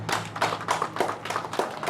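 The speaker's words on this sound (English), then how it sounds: "then we'll have a big round of applause for all of them" A small group claps steadily in a round of applause for the directors at the grand opening of the Uxbridge Fire Museum, the hand claps fairly close and moderately loud, with no talking over them.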